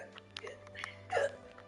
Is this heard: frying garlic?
no